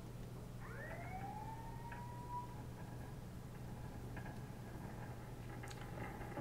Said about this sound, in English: Kind of weird that we can hear his collision siren.